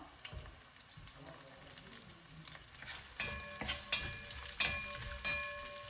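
Curry leaves sizzle in hot oil for a mutton stew, a quiet crackling hiss with several sharper pops and spatula clinks in the second half; faint voices sit in the background.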